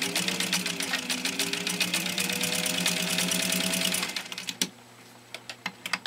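A direct drive Singer sewing machine punching through 10 layers of stiff canvas binding tape, a loud fast rhythmic hammering whir that stops after four seconds, followed by a few scattered clicks and knocks.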